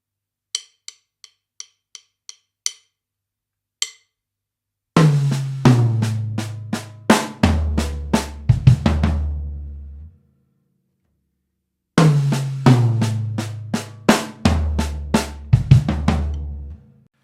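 A drum kit plays a fast chop: crisp clicks and sticking, then two dense bursts of rapid tom and kick hits with cymbal wash, separated by a short silence.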